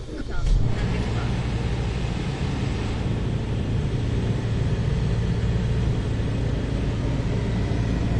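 A car pulls away after a wash, its engine and road rumble holding steady and loud throughout, a low continuous drone with a brief louder burst near the start.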